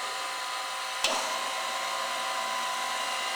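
The main spindle of a Toyoda GOP 32x50 universal cylindrical grinding machine runs with a steady high whine, broken by one brief click-like transient about a second in, with no talking.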